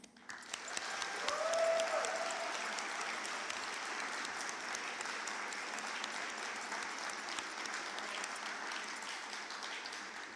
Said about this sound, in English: Let's give one more round of applause for our participants.